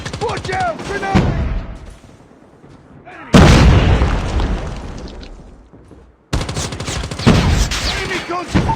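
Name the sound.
grenade explosion and gunfire in Call of Duty Mobile video game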